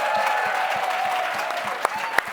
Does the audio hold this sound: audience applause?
yes